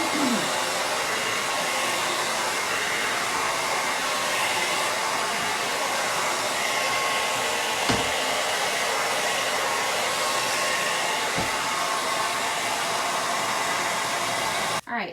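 A hair dryer blows steadily on freshly painted stripes, a loud, constant airy whir running nearly the whole time before switching off at the very end.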